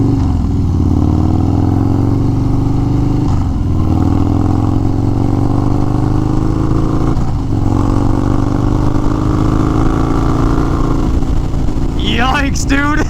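A 2021 Harley-Davidson Street Bob 114 motorcycle engine rumbling loud and close while riding, with steady low throb and rising revs that dip at shift points; someone talks over it.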